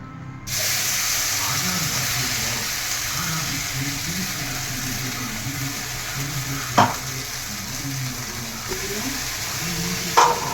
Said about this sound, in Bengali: দিয়েছি কড়াই একটু মশলাটাকে কষিয়ে নেওয়ার জন্য